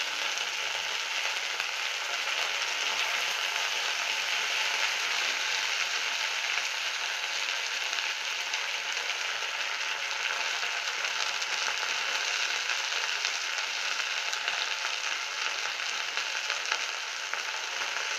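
Drumstick flowers frying in a pan, an even, continuous sizzle holding steady from start to finish with no talk.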